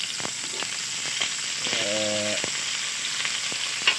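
Eggplant slices frying in a pan, giving a steady bright sizzle with small crackles and pops throughout, plus a brief tonal hum partway through.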